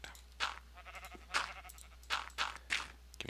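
Sheep bleating in the Minecraft video game, several short wavering bleats spaced about a second apart, clear and close over a faint steady background hum.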